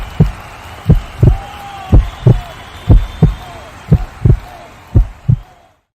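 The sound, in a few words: heartbeat sound effect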